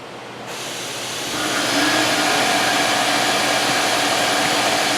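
Fadal VMC-8030HT CNC mill, a rebuilt 1998 machine, with the spindle spinning up to 3000 RPM, a loud whirring rush that swells after a second and then holds steady and even.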